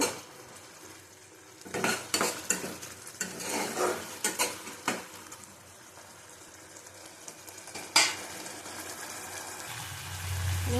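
Spice masala being stir-fried in a pan for a potol-aloo fish curry: scraping and clattering spatula strokes in bursts against the pot over a soft sizzle, close and fairly loud, with quieter stretches between.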